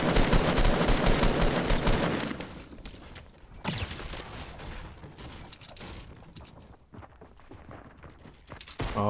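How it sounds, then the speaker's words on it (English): Loud video game gunfire opens with dense rapid bursts for about two seconds, then sporadic shots and impacts continue more quietly through the rest, with no talking. "Somebody shooting at us."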